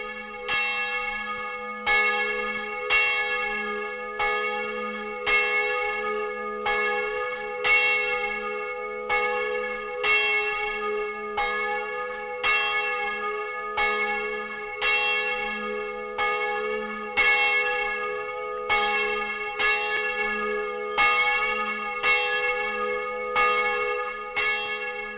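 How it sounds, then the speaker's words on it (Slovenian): The large bell of the Holy Trinity church at the Pleterje Carthusian monastery tolls steadily, each clear metallic strike ringing out and decaying into the next in a slow, even rhythm, with no voices. "Veliki zvon naše cerkve Svete Trojice je oznanil"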